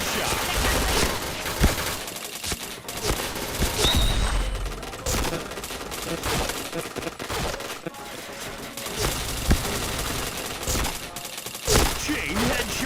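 Rapid video game gunfire, bursts of sharp shots and automatic fire scattered through the stretch, fairly quiet and mixed with other game sounds and effects.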